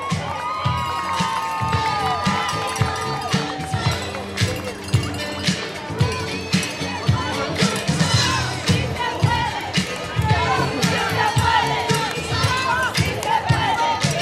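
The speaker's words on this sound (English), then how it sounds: "Big round of applause to Team Hope." Outdoor crowd at a Relay For Life event cheering, whooping and shouting for a team, with loud overlapping voices, yells and scattered clapping throughout.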